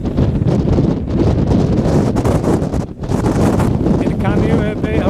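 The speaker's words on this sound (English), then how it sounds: "as a gale go by, we had a gust of 80 knots of wind" Strong gale gusts roaring over a boat riding at anchor in Kaneohe Bay, Hawaii, a loud, continuous buffeting rush of wind on the microphone with a brief lull partway through.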